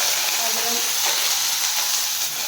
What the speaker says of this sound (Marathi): 4 ते 5 मिनिटे छान तेलामध्ये परतून घ्यायची आहे।